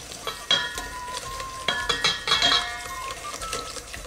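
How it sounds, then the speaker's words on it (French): Melted, lightly browned butter stirred into eggs in a bowl for maple madeleine batter, close scraping and clinking of a utensil against the bowl with a soft background hiss, irregular strokes, no talk. "et vous touillez"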